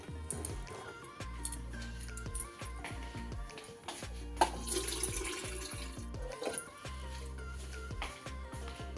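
Water running from a kitchen tap into a pot to be heated, a close, steady splashing stream with gurgling shifts in pitch as the vessel fills.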